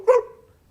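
A person imitates a dog's bark during a guessing game with children, producing one short, loud, voiced woof that trails off quickly.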